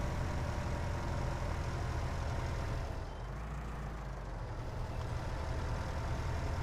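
A 180-horsepower tractor in Farming Simulator 19 idles with a steady, dense low rumble, its engine drone holding constant and briefly dipping slightly before settling back to the same even hum.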